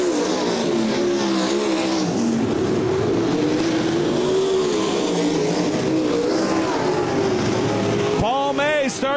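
Dirt-track race cars battle for the lead down a back chute, their engines roaring and droning loudly in a continuous wavering blend as the pack passes, with an announcer talking over the noise.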